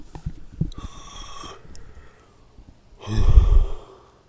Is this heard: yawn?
yes